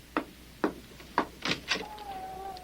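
At a house door, a visitor raps about five times in a sharp, close series, followed by a faint, thin tone trailing off.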